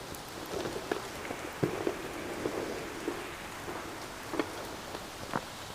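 Steady rain patters on a surface, with scattered louder drips and taps standing out against a continuous wash of falling water throughout.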